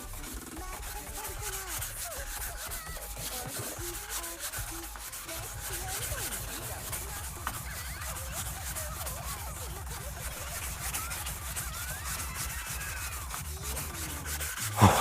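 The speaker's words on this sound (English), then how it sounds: "Sandpaper has a very good chance of clogging up as you work, and so you gotta shake it off from time to time." Sandpaper rubs back and forth along a wooden bachi drumstick in a continuous rasping stroke rhythm, close and steady for the whole stretch, with no talking.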